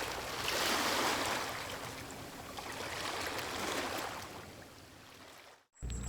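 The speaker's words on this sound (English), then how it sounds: "listen to noises you're comfortable with and can tolerate for 5 to 10 minutes, such as waves along a beach" Waves along a beach wash in a soft, steady surf rush that swells and recedes, faint and continuous, before cutting off abruptly near the end.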